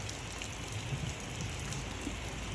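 Rain falls steadily outdoors near a fishing spot, a soft continuous hiss of drops at a low level with no voices.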